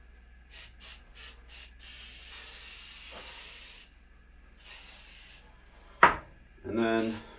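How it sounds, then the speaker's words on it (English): Liquid Rex wax sprays onto an alpine ski base in short hissing bursts, then a longer steady spray and another hiss, close and fairly loud, with a brief clatter and a voice-like sound near the end. "I'm going to use our spray."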